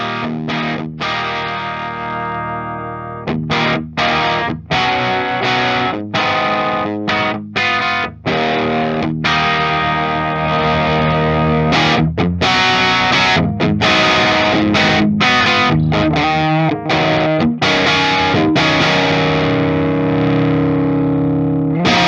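Electric guitar played through stacked fuzz distortion on a Rustbelt FX Dual Amp Stoker, thick and saturated, strummed chords ringing loudly with brief choppy breaks for over twenty seconds.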